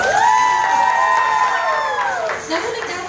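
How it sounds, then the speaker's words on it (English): A circus sideshow crowd at a carnival cheers loudly, with a long sustained whoop riding over the crowd noise and some clapping, close and loud throughout. "let's give her a round of applause"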